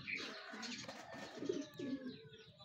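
Soft, low cooing from a Santa Ana Clacker-line pigeon repeated several times, close and quiet, with faint chirps in the background.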